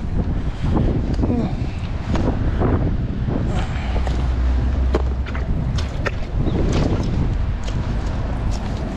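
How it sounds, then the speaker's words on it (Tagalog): Strong wind roars steadily into the microphone outdoors, a constant buffeting rush with scattered rustles and knocks, while a voice talks over it. "Sobrang lakas ng hangin."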